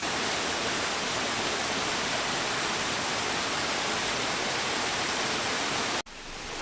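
A waterfall beside a hiking trail roars steadily with a dense, constant rushing wash, close and loud, then the sound abruptly drops off near the end.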